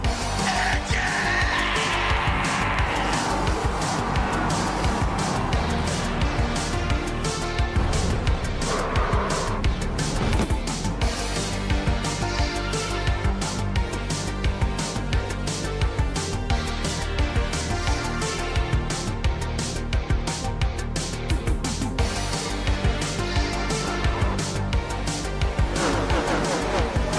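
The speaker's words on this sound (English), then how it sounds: "gentlemen, start your engine" Stock race car engines roar together at Bristol Motor Speedway in an Xfinity Series racing simulation. The engines hold a loud, dense, sustained drone throughout, with rising and falling revs and occasional tire squeals.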